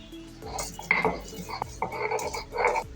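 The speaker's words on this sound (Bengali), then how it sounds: "এখন আমি বাদামগুলো বেটে নিচ্ছি" Nuts being ground into paste by hand on a stone, heard close as repeated rough grinding and rubbing strokes with knocks and scrapes in an uneven rhythm.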